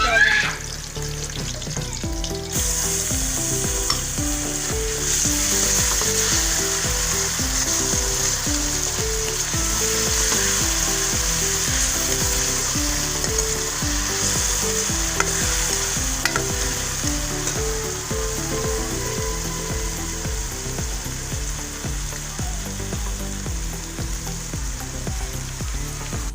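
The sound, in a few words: onions with garlic ginger paste frying in pan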